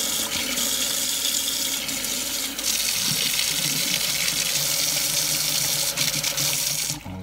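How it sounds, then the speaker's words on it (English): Warm tap water gushes steadily from a faucet into the tank of a Vax Dual V Advance carpet shampooer, a constant close splashing rush with a small change partway through. "So let me get the water warm."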